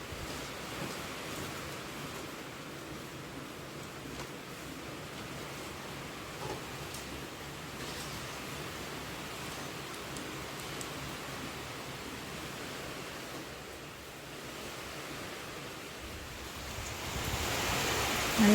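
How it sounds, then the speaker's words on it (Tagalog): A steady, broadband roar of strong wind and heavy rain during Typhoon Tino, fairly faint and unbroken, swelling slightly louder at the very end. "malakas na din na ulan"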